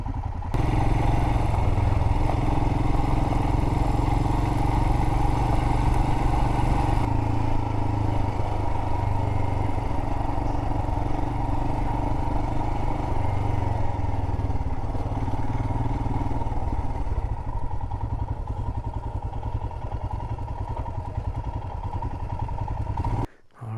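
A motorcycle rides up a dark forest road, its engine droning steadily and close, with a constant low rumble and some clatter that carry on for the whole run before a sudden cut at the end.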